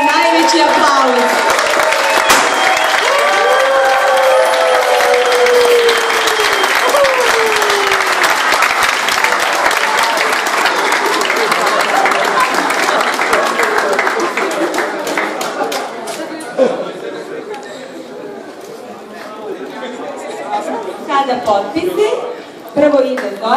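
Loud, sustained applause from wedding guests following the kiss, a thick roar of clapping with cheering and voices mixed in, slowly thinning into scattered claps and chatter near the end.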